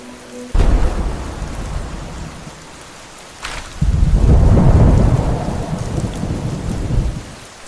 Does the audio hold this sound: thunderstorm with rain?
yes